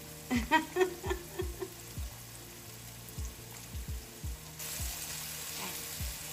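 Chopped onion and tomato with salt frying in a pan, a faint low sizzle punctuated by a run of soft, repeated knocks and scrapes of stirring.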